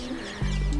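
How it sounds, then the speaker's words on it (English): Birds call outdoors in a quiet rural setting, a short chirp or coo rising clearly over soft background noise before a low rumble takes over. "You can listen to the birds chirping and the cows moving at the back."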